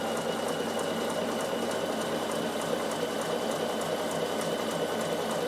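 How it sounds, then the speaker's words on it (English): Bernina overlocker stitching a stretch-fabric neckband, a fast continuous mechanical whirr with an even rapid needle rhythm, close and steady throughout with no voices. "I'm not stretching at this stage, I'm just sewing"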